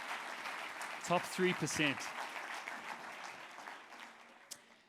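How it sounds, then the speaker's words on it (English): Applause from the audience at a Johannesburg business pitch competition evening, a steady wash of clapping throughout with someone talking briefly over it near the start. "just give them a quick round of applause if you don't mind"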